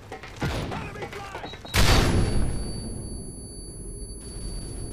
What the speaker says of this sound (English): I chucked a grenade